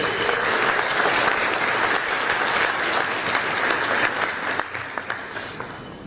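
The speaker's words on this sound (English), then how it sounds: "Let's give them a round of applause." An audience at a State of the City address in Hoover gives a round of applause for event partners, sustained crowd clapping that holds steady, then thins into scattered claps near the end.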